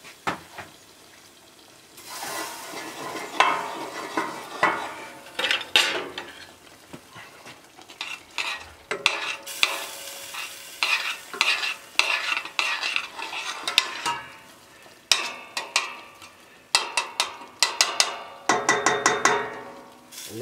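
Parsley is stirred into a sizzling Bercy sauce in a pan beside a grilled beef T-bone steak, with a spoon scraping and clinking against metal in irregular bursts over a faint sizzle, close by and without speech.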